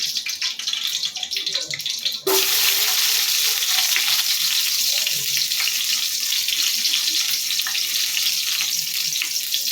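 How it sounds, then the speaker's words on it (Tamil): Mustard seeds and garlic fry in hot oil, a quiet rustle giving way to a sudden, loud, steady sizzle that carries on to the end. "கடுகு நல்லா பொரிஞ்சதுக்கப்புறம் பூண்டு சேர்த்துக்க போகிறோம்"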